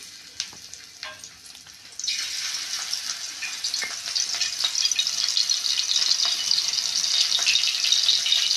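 Semolina-coated pieces hiss into hot oil, starting with a few light clicks and taps before a dense, steady sizzle swells around two seconds in and carries on unbroken, close and fairly loud, with no one talking.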